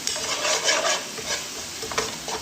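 Ground coriander, cumin and chaat masala stirred together in a pan for tangdi boti chicken legs, giving a steady scraping, sizzling stir that runs close and fairly loud with no talk.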